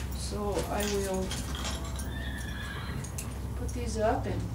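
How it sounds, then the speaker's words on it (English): Horses whinny loudly and repeatedly as they come in, their neighs rising and falling over a steady low background, with a few clinks and a voice speaking nearby. "Looks like the horses are coming in."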